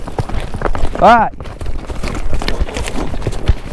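Hooves of horses thud and clop on pasture ground as riders herd cattle on a farm, close and uneven, with a rider shouting over them and a brief high cry.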